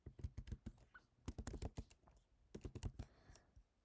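Quick bursts of typing on a computer keyboard at a desk, close crisp key clicks in short runs separated by brief pauses; no voices.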